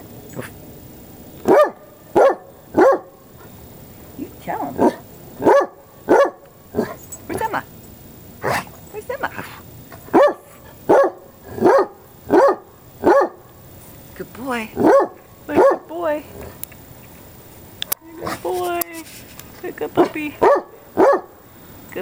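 A dog barks in a steady run of sharp, close yips and woofs, with a person talking and a few whimpers mixed in.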